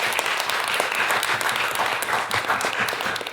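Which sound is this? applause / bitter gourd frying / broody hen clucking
applause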